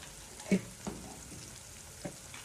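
Masala spices tipped into a sizzling pan while cooking a green pea curry, a soft steady fry with a few brief clattering stirs and taps.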